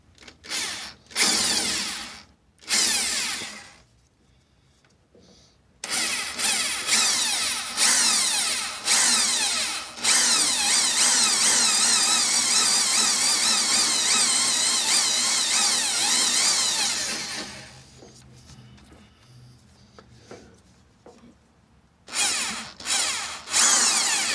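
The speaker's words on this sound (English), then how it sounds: "Get the hole drilled." A power drill bores a hole for a front brake line mount on a 1966 Plymouth Fury, with several short bursts of drilling, then a long steady whine, separated by quiet pauses and ending in more short bursts.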